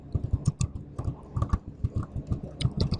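Code is typed on a computer keyboard in quick, uneven bursts of crisp key clicks, close and fairly quiet, with no talking.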